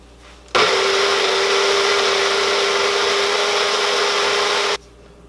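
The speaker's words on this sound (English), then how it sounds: "I don't know if I could blend all of these up in this one cup. This is like a mini blender cup" A mini blender cup whirs steadily for about four seconds as it blends pesto ingredients, a loud continuous motor hum that starts and stops abruptly, with no talking.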